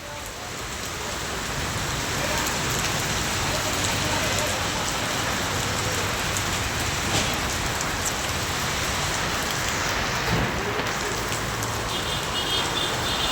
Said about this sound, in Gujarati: વરસાદ કેટલો ચાલુ છે અત્યારે